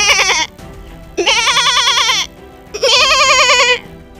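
A man imitates a goat with his voice, giving three drawn-out, wavering bleats separated by short pauses, loud and close with no other sounds.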